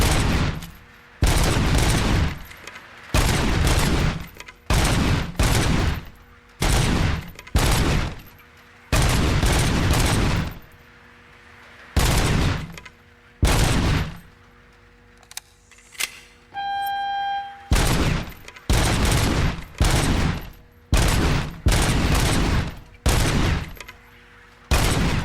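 Bursts of gunfire from the RoboCop: Rogue City video game, loud, repeated rapid volleys separated by short pauses, with a brief tonal beep sequence midway and no voices.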